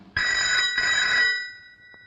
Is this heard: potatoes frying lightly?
no